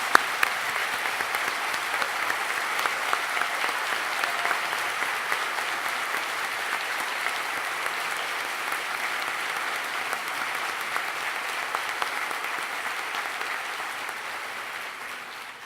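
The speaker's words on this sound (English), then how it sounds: "Will you please join me in a round of applause?" Sustained applause from a large crowd at a university convocation, a steady dense wash of clapping that holds for about fifteen seconds and slowly tapers at the end.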